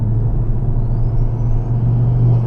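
A Collins Performance Stage 2 Ford Focus ST, an older performance car, drones steadily at close range with a loud low engine rumble and a faint thin rising whistle above it, with no talking.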